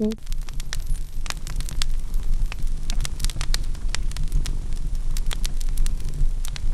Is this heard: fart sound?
no